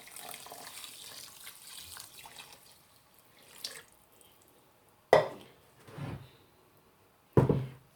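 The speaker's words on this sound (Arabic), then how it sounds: "je mets de l'eau tout simplement." Water poured onto couscous during cooking for a tripe couscous dish: a soft running trickle early on, then two short, loud splashing pours a couple of seconds apart, close by in a quiet kitchen.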